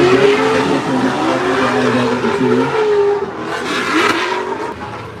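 C6 Corvette drifting at a Riverside drift competition, its engine roaring loud and sustained with the pitch wavering as the throttle changes, and a hiss of tire noise rising late.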